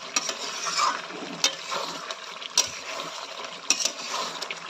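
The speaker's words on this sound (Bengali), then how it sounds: "এবার এটাকে আমি একটু কষবো" Country chicken curry is sautéed in a pan, with quiet sizzling and repeated light clacks of a spatula against the pan at irregular intervals.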